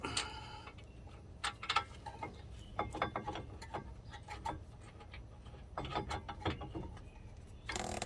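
A brake caliper bracket bolt on a 2011 Honda Ridgeline is started and threaded in by hand, giving a run of light metallic clicks and ratchet-like ticks close by, with no talking.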